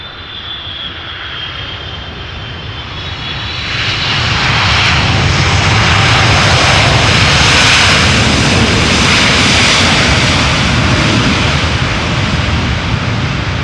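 Aircraft engines roar at Amsterdam Schiphol Airport, the broad rumble rising over the first few seconds and then holding loud and close as a plane passes, with no voices.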